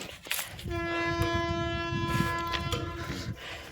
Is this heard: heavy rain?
no